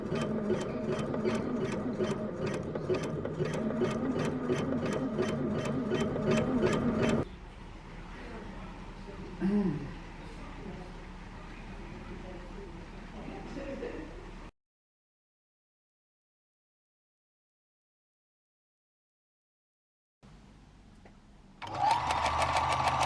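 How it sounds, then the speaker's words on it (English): A sewing machine stitches fabric with a fast, steady mechanical rattle for about seven seconds, then gives way to quieter handling noises and a long silence, and a loud burst of stitching returns briefly at the end. "as you can see there, I am just doing some stitching"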